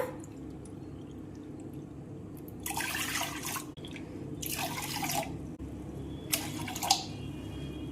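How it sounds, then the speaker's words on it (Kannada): Water pours into a pot in three separate splashy bursts, each lasting about a second, over a low steady background hum. "ಇನ್ನ 3 ವಾಟಕ ನೀರು ಹಾಕೋಬೇಕು ನಾವು"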